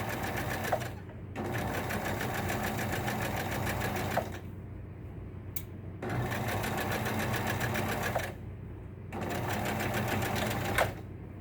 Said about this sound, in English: So I'm going to start back stitch and then continue watching that fold.